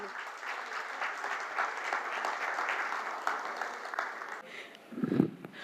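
Audience applause and cheering welcome a female performer onstage, a steady dense clapping that swells and holds for several seconds, then thins near the end as a single voice briefly breaks through.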